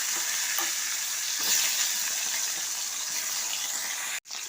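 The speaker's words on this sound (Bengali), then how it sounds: "ওই তেলেতেই একটা আলু ছোট করে কেটে কেটে দিয়ে দেবো।" Small cut potato pieces fry in the oil left after frying fish, giving a steady close sizzle with soft stirring scrapes and a few light clinks, ending in a brief gap.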